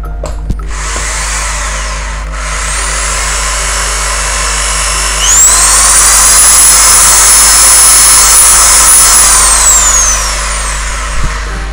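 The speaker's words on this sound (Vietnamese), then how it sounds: "test chức năng khoan thường" A Bosch three-function 220 V electric drill runs in normal drilling mode, its motor whine rising to a loud, steady high pitch, holding for several seconds, then winding down.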